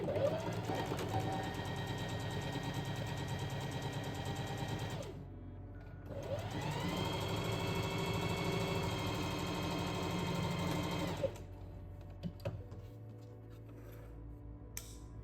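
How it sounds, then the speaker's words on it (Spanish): A domestic sewing machine stitches a seam on fabric at a 1 cm allowance in two long continuous runs of steady motor whir with a brief pause between, close and even, followed by quieter handling sounds. "Lo voy a poner a 1 centímetro igual que antes y lo voy a coser."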